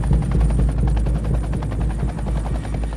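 Helicopter rotor chopping steadily and loudly, a close rhythmic thumping with engine whine, as the aircraft comes in to land in a narrow ravine with no proper landing spot.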